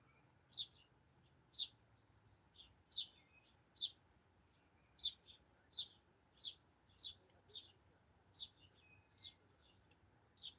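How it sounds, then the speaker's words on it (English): Baby cardinal chirping in a backyard, a series of about a dozen short, sharp high chirps spaced roughly a second apart, fairly close and clear over a quiet background with no talking. "I think that's the baby cardinal."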